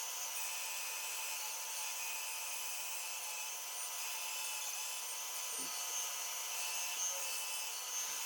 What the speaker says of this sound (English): we've gone over to the bandsaw, and just like usual, just go around all the different shapes